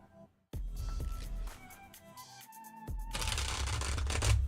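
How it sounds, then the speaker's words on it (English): Tarot cards are shuffled close up in two bursts of rapid riffling and flapping, the second louder and busier, with no talking. "We should hear card shuffles."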